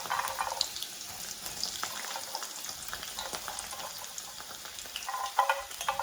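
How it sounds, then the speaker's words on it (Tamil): Chana dal and moong dal deep frying in hot oil, a steady, busy crackle and sizzle with a few sharper pops and no one talking. "கவனமாக போட்டு இந்த கடலைப்பருப்பையும் பயரையும் பொரிச்சு எடுக்கணும்."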